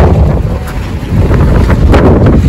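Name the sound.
strong cold wind in the mountains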